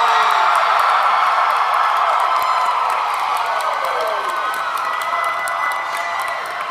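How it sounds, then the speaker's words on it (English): A convention crowd at a Sailor Moon anime panel cheers loudly, a dense sustained roar of shouts and whoops that stays strong for several seconds before easing slightly. "when you guys cheer as loud as you can really quick"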